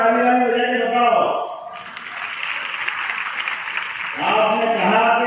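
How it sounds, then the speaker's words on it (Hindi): Audience at a gathering in Madhya Pradesh claps in approval of announced demands, a dense burst of applause rising between stretches of amplified speech. "डिमांड ताली बजा के बताओ"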